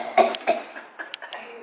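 Several short, harsh coughs from a nearby person come in quick bursts, spaced over under two seconds with brief pauses between them.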